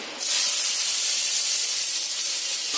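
Cut potatoes dropped into hot mustard oil, tempered with nigella seeds and a dried red chilli, set off a loud, steady sizzling hiss that starts abruptly and holds for a few seconds with no talking.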